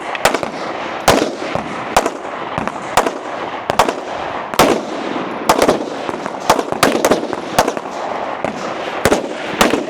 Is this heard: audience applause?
no